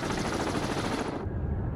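Torpedoes are released in a naval warfare video game, heard as a dense, loud mechanical rattle and roar that fills the whole clip, with the bright upper hiss cutting off abruptly near the end while the low rumble carries on.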